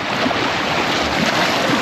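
Rushing river water roars steadily around a small boat on a river near Palomino, Colombia, a loud, continuous wash with no talk and a brief splash near the end.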